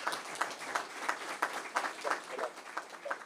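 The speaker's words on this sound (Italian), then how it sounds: "Un applauso." Moderate, somewhat sparse clapping from a small audience at an Italian municipal meeting on renewable energy communities, with individual claps standing out in an uneven rhythm, fairly quiet overall.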